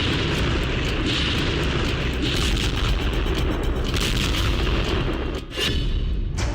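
Heavy explosions and gunfire in a war zone in Ukraine, a dense continuous roar of booming blasts and crackling shots, loud and relentless with no pause.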